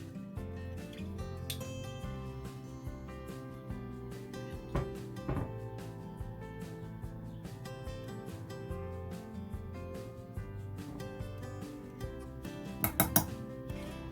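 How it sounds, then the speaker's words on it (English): Spoon and utensils clinking steadily against a casserole dish as spices are spread and mixed for a chicken and vegetable casserole, with soft scraping and a brief burst of sharper clinks near the end, no talking. "I like to spread my spices out like this when I'm mixing in a dish, a casserole dish."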